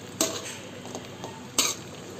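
A spoon stirs cinnamon and cardamom paste with a spoonful of sugar in a bowl, giving a few soft scraping and clinking strokes over quiet kitchen background.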